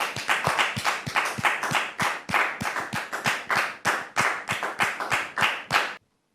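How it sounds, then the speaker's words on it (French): Studio audience at a French television talk show claps in unison, a crisp, evenly paced beat of sharp hand claps repeating steadily for about six seconds before stopping abruptly. "on va le recevoir sur vos applaudissements"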